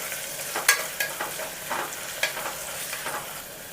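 Sliced onion stirred as it fries in hot coconut oil for pepper beef roast, a crackling sizzle punctuated by several sharp spoon scrapes against the pan, close and clear with no talking.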